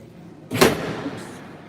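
A single loud rattling thud of a locked door being tried at a mall gate, sharp onset then a short fading rumble, alone with no talk.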